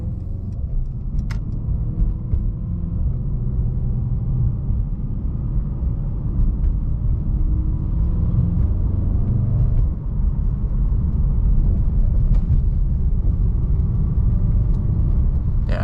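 A 2018 Mercedes-AMG E63S in Sport Plus mode drones with a deep, steady engine rumble from inside the cabin, the low roar rising and dipping slightly as the automatic gearbox upshifts.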